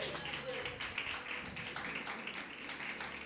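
A church congregation applauding together, a steady wash of many hands clapping at a fairly even level throughout, moderately distant and diffuse.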